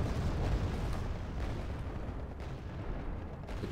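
Aircraft-dropped bombs exploding in the Wargame: AirLand Battle strategy game, a dense rumbling barrage of low booms blending into one continuous roar, moderately loud with no voices.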